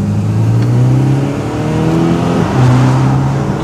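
Audi SQ5 engine pulling hard under acceleration, a loud steady drone with rising pitch, a brief dip and then climbing again, heard from inside the car with no talking.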